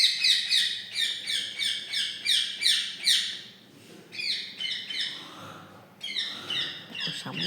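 A pet parrot named Mithu calling in rapid bursts of sharp, repeated chirps and squawks, loud and close, with a short pause midway before the calls resume.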